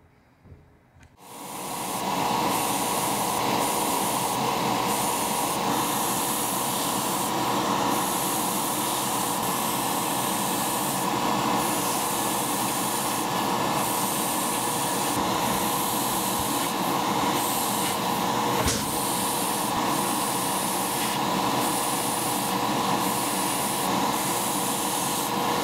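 Coral blue spray paint hisses steadily from an aerosol can onto a Tamiya 1/20 Leyton House CG901B Formula 1 scale model. The spray is loud and close, with faint rhythmic pulsing and no talk.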